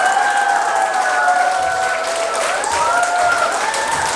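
Steady applause mixed with audience cheering and a rising, sliding whoop of voices, continuous and fairly loud for about four seconds.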